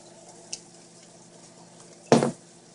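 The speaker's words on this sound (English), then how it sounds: "And then you just stir up." A spoon clinks once, then a short, loud scraping stir through a small dish of soy sauce and sugar marinade for flank steak, heard alone in a quiet kitchen.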